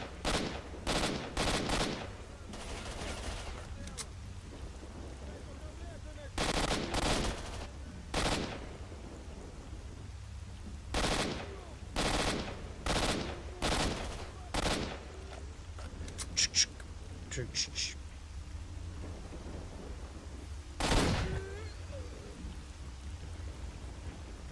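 Heavy shotgun blasts ring out in S.T.A.L.K.E.R.: Shadow of Chornobyl Enhanced Edition, with about a dozen booming shots coming singly and in clusters at irregular intervals over a soft, hissing ambient background.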